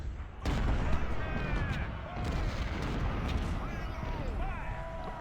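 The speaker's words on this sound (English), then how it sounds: "Artillery." Repeated artillery cannon fire in the Civil War strategy game Ultimate General: Civil War at Gettysburg, a dense rolling barrage of booms with whistling shells, continuous and loud throughout, with talk over it.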